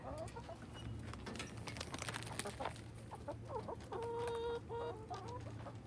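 Farmyard chickens clucking in a coop strewn with feathers, a busy overlapping chorus of short clucks and squawks with one sustained call partway through, fairly close and steady throughout.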